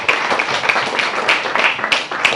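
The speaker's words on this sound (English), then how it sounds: "So please give a very big round of applause to 2 extraordinary men." Audience applause at a film festival screening, a dense wash of many hands clapping steadily and fairly loud throughout, with no speech over it.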